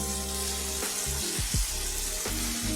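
Turmeric and cumin powder frying in hot oil in a pan for mutton curry, a steady close sizzle with a few brief scraping stirs, no talking.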